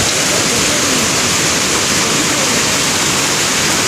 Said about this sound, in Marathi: खूप छान असा वॉटरफॉल आहे